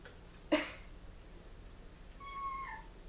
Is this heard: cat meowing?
yes